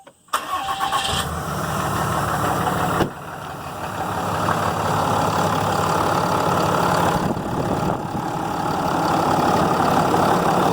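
A Ram 3500 Cummins diesel running on all six cylinders after being put back together, catching right at the start and then settling into a loud, steady, close idle with a slight lift in pitch partway through.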